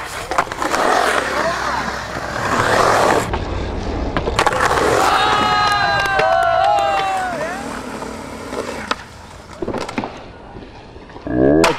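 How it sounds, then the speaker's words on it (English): A skateboard on big 61–62 mm wheels rolls with a rough rumbling roar, fading and swelling, while excited voices and shouts sound over it. "My skateboard right here"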